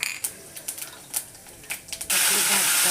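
Asafoetida and cumin hitting hot oil in a kadhai as tempering for a dill and moong dal dish: a sudden loud, steady sizzling hiss bursts in after a few light clicks and taps.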